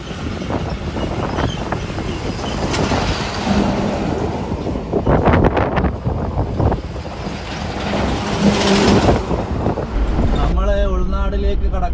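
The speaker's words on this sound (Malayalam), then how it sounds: "നല്ല കാറ്റ്, വണ്ടി അറിയുന്നു, വണ്ടിക്ക് കറക്റ്റ് കാറ്റ് പിടിക്കുന്നുണ്ട്." Strong wind roars and buffets a moving vehicle on a road in Murshidabad, West Bengal: a loud, continuous, gusty rush with low rumble throughout, and a voice briefly audible near the end.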